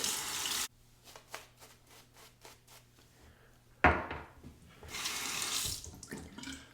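Tap water runs into a sink while a razor is rinsed, opening with a short burst of flow, then quieter rhythmic splashes and rubbing before a louder steady stream resumes near the end.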